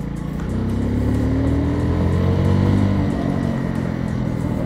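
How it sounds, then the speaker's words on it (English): MUTT Razorback 250 motorcycle engine accelerating on a road, a loud close drone whose pitch climbs steadily through a gear before levelling off, with wind rush around it. "You can test the power of the engine."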